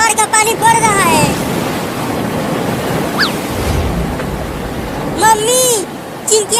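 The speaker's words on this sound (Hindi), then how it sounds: "बाढ़ का पानी बढ़ रहा है।" Rising flood water in a cartoon swells as a steady, loud broadband wash, with high-pitched voices speaking at the start and end.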